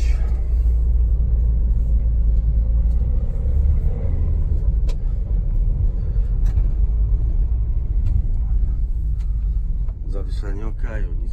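Steady low engine rumble of a Toyota RAV4 2.0 petrol 4x4 on a short test drive, continuous and close, with occasional clicks and a brief voice near the end.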